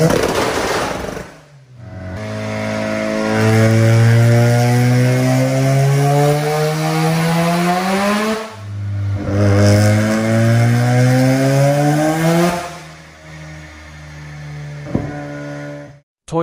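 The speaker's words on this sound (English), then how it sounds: "Mazda RX-7." A Mazda RX-7 rotary engine revs hard on a dyno, with two long rising pulls that climb in pitch before dropping off, loud and close.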